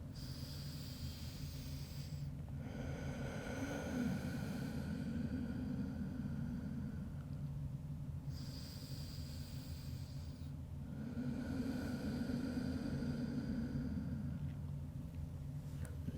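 A slow, drawn breath in during a chill vinyasa yoga flow, soft airy inhales rising and falling in long cycles, close and quiet with no talking.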